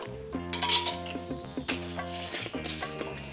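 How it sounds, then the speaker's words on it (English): A bottle of homemade baking soda stove cleaner is shaken up close, giving quick bursts of rattling and clinking in an irregular rhythm. "So we're gonna shake up our homemade cleaner."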